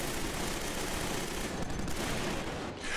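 Rapid gunfire from a gunfight in the video game Killzone 3 fills the clip with dense, continuous bursts of shots, loud and close, fading slightly near the end with no voices present.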